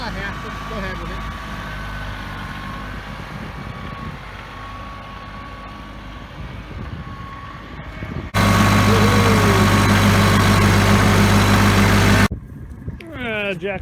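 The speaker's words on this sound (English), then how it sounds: "This is the tractor." Farm tractor engine idling nearby, a steady low mechanical rumble with a loud, harsh burst of engine noise partway through, heard under people talking.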